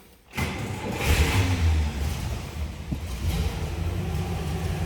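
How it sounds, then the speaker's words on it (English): A 1965 Buick Skylark GS convertible engine cranks and catches after a quiet moment, then settles into a steady, loud idle with a deep low rumble and no talking. "Let's go ahead and start this up so you can hear this car run."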